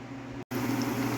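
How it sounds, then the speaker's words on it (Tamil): Thattai rice-snack dough discs deep-frying in hot oil, a steady dense bubbling sizzle that runs continuously apart from a brief silent gap, with no talking. "இப்போ எண்ணெயில் போட்டு பொரிக்கணும்."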